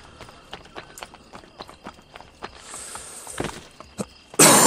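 Horse hooves clip-clop at a slow walking pace in Assassin's Creed Brotherhood, a steady series of light, moderately close hoof strikes ending in a sudden loud burst of sound.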